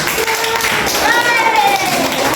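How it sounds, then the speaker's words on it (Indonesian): A classroom of children claps for a correct answer, a brief patter of hands under excited young voices and chatter. "kasih tepuk tangan dulu yang jawabannya benar"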